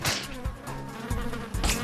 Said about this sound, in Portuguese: As moscas são a principal fonte de nutrientes das aranhas.